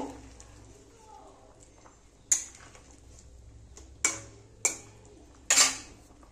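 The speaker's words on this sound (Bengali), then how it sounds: "এবার একটু নেড়ে দেব।" A spoon clanks sharply against a pan four times, spaced apart, while paneer and potato curry is stirred over low background noise, with a faint voice early on.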